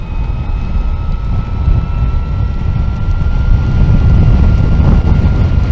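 Heavy wind buffets the microphone while riding an Energica electric motorcycle along Scotland's eastern coast on a very windy stretch, a loud, steady roaring rush that swells slightly toward the end, with no voices.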